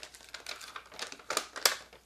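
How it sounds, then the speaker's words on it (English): Thin plastic packaging crinkles and rustles in short, quiet bursts as an LG G5 phone, T-Mobile edition, slides out of its retail box, close up and without speech. "the inevitable satisfying sound of plastic"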